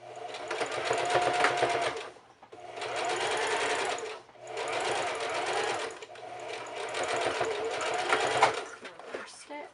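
Sewing machine stitching cloth mask fabric in four close, steady runs separated by short pauses, with someone speaking over the motor.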